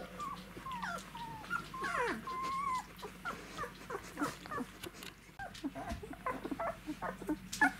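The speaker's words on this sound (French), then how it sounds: "Première rencontre, premier contact entre Rahan et ses bébés." Nine-day-old puppies whimper and yip close by in a mobile home as they meet their father dog, a string of high, wavering cries and short squeaks with a low growl near the middle.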